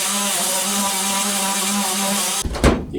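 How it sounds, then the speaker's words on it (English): A power grinder works down the metal floor of a 1971 Mustang Mach 1, whining steadily and loud up close, then cuts off abruptly with a few clanks as it stops. "So I'm going to go ahead and grind that down a little bit."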